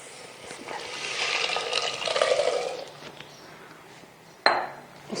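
Boiled chickpeas tipped with their cooking water into a masala for a halwa puri chana dish, a watery pour and stirring with metal clinks of utensil against pot, then a sharp clank near the end.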